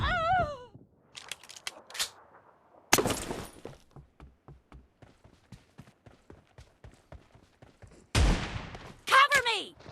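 Shotgun blasts in a one-on-one shotgun duel, heard as a rapid string of sharp cracks and bangs, loud and close, with shouted voices at the start and end.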